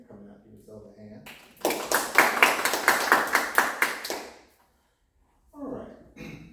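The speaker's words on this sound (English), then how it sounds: "Give yourselves a hand." A crowd at a panel discussion on gun ownership breaks into brisk applause for about three seconds, with a speaker's voice before and after it.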